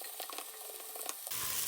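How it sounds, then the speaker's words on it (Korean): Onions for a beef curry stir-frying in a pan while a spatula gently scrapes the bottom, quick rhythmic scraping over a steady sizzle that swells into a louder hiss near the end, close by. "이렇게 주걱으로 살살 긁어주면서 볶아주면 괜찮습니다."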